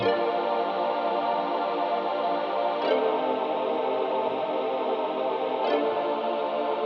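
A Christmas beat opens with a bright plucky synth accent layered over a sustained choir pad, dense and steady, with two soft percussive hits marking the bar.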